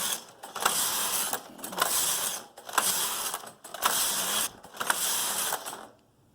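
A punchcard knitting machine knits a Fair Isle pattern as the carriage slides back and forth in five rhythmic passes, each a whirring mechanical clatter with brief pauses between, close and without talk.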